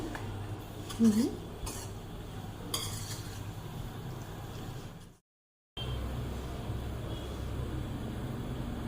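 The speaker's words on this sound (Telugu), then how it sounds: "కారం యాడ్ చేసేసుకొని ఒకసారి కలబెట్టేసుకొని" Chilli powder is stirred into an amaranth stem and chana dal curry, with faint utensil scrapes and clinks against the pan over a low sizzle, then a brief dropout before the quiet frying continues.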